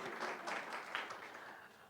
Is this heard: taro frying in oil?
no